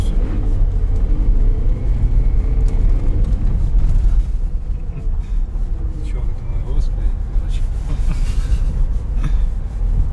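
Inside a 1.5-litre Toyota Prius on the road, a continuous low rumble of tyres and engine fills the cabin while people talk over it.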